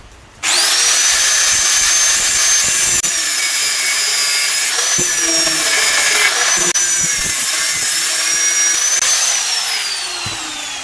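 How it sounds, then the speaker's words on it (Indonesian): An angle grinder cuts through the rivets on an old Honda Supra motorcycle clutch housing, giving a loud, continuous high-pitched whine and grinding rasp that holds steady for about ten seconds, pitch dipping slightly under load, with no talking. "untuk mangkok ganda yang lama di pakunya kita lepas dulu, kita gerinda"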